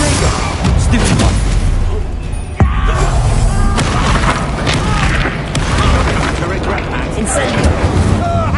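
Spell blasts from Bombarda and Confringo in the Hogwarts Legacy video game boom repeatedly in a dense, loud barrage, with one sharp crack standing out midway through the rolling explosions.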